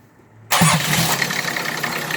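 A 4.3 diesel engine in an Oldsmobile 98 cranks on a cold start, catches abruptly and settles into a steady, loud, close-up running clatter with no talking.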